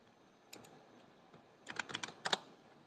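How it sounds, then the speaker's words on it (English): Quiet computer keyboard typing: scattered single keystrokes, then a quick cluster of taps toward the end, close but faint against a soft background hiss, with no talking. "Sorry, I was typing in world."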